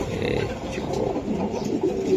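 A female white racer pigeon coos softly and continuously, with a low murmuring tone over a room background close by.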